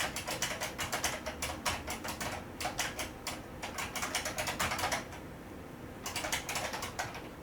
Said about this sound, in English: how does the keyboard sound?